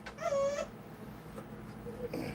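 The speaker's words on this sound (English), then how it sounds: "when y'all hear those squeaks, they're dog toys" Squeaky dog toy giving one sharp, high squeak near the start, followed by a fainter squeak toward the end, over quiet background noise.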